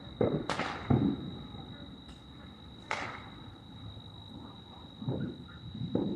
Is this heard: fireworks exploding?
yes